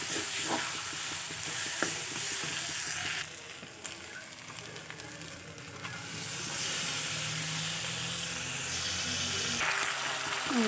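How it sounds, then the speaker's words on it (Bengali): Chicken pieces sautéed in spiced oil in a pan, a continuous soft sizzle and hiss with occasional stirring scrapes and a dip in level partway through, no speech. "দেখো মাংসটা দিয়ে আমি ওখানে কষাচ্ছি"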